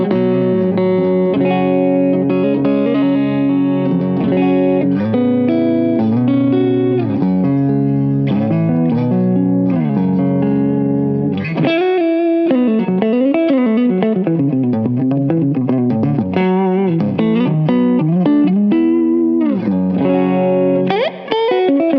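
Ibanez SZ520QM electric guitar on its neck pickup in full humbucking mode, playing a continuous distorted, effects-laden run of chords and melodic lines, loud and close with no talking.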